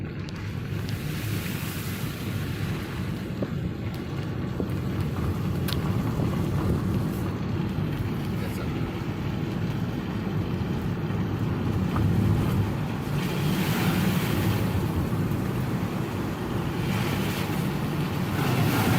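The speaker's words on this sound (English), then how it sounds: "Here's the creek in front of the house." A normally small creek in front of a house in Tennessee, swollen after a rainy day, roars with a loud, continuous broadband rush of water, mixed with gusty wind noise, and no one talks.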